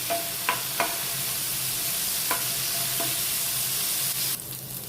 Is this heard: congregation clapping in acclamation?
no